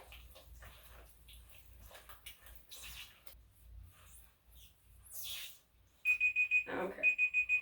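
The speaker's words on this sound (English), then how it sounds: "So my husband off screen is gonna set the 1-minute timer for me" A one-minute kitchen timer alarm goes off with a rapid run of loud, sharp repeated beeps in two bursts, following soft indoor handling noise and quiet background sounds.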